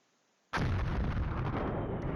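Artillery fire in the war game Flashpoint Campaigns: Red Storm: a sudden loud blast out of near silence, followed by a sustained rumbling roar that holds for the rest of the moment.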